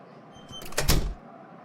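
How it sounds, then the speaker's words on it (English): A restaurant owner locks the door: a short mechanical rattle and clunk swells and fades within about a second against a quiet background. "She is locking the door."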